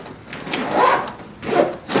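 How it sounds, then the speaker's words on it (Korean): Zipper pulled along an IKEA PÄRKLA fabric storage case with two zippers, two quick rasping runs close by with a short pause between, no talking. "얘는 가격도 저렴한데 양쪽으로 지퍼가두 개 달려있고"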